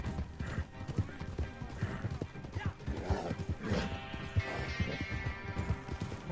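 Horse hooves clip-clopping in the Red Dead Online video game, a steady trotting rhythm of hoof beats with mechanical clatter and game sounds mixed in, at moderate level and fairly close.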